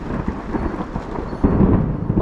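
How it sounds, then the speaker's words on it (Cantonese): Thunder rolls during a mountain hike near a waterfall in Okunikko, Japan: a low, distant rumble that swells louder toward the end. "嘣嘣打雷啦！"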